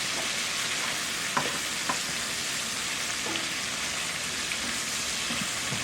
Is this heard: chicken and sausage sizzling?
yes